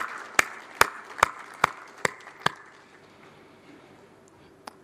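Six sharp, evenly spaced claps ring out loudly at a public awards ceremony in a large hall, followed by a quieter stretch of room murmur and one last lone clap.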